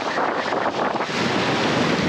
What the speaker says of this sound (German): Heute ist ein bisschen mehr Wind als die letzten Tage